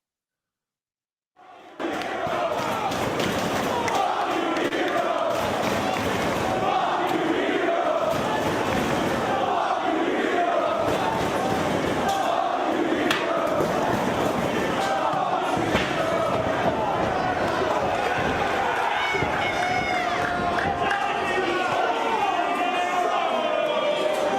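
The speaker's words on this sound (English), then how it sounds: "How about the heat that Chris Hero has for this Ring of Honor crowd?" Ring of Honor wrestling crowd roaring and jeering as Chris Hero makes his entrance, a dense, sustained wall of shouting and cheering from a packed arena with scattered thumps beneath it.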